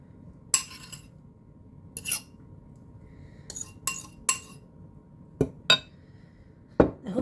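Pumpkin pie filling is stirred with evaporated milk in a bowl, with sharp, scattered clinks of a utensil striking the bowl's side over quiet pauses, about a dozen distinct taps.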